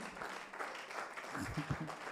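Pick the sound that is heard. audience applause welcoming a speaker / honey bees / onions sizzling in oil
audience applause welcoming a speaker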